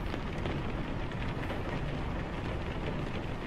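Steady rain in the truck-driving game Euro Truck Simulator 2, a faint, even hiss of falling drops that stays constant throughout with no voices.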